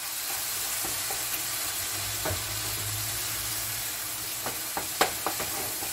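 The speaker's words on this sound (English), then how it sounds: "Yeah, and stir more" Onion, green pepper and tomato sauce are stirred in a pan under a faint sizzle, with a handful of soft scrapes and taps that grow more frequent toward the end; no talking.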